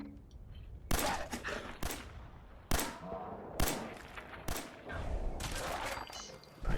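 Gunfire in the Fallout 4 video game, a string of loud, sharp shots fired roughly once a second with a busy game soundscape between them, aimed at a hostile dog.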